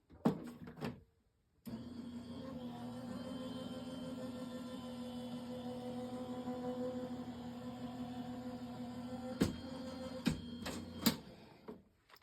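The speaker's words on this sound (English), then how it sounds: "So let's put this in and run this through my machine." A hand-cranked die cutting machine embossing a card gives a steady grinding mechanical hum for several seconds, framed by sharp clicks and clacks of the plates before and after.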